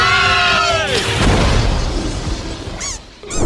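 A loud cartoonish blast from an animated Angry Birds bomb bursts out with crashing, shattering debris, preceded by a falling whistle-like tone, followed by a couple of quick zippy effects.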